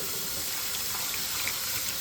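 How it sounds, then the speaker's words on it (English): Tap water running over rice being rinsed of starch in a kitchen sink, a steady close splashing hiss. "that's just the starch rinsing off of the rice"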